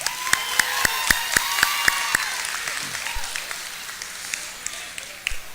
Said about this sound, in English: Let's have a big round of applause for Maura Tila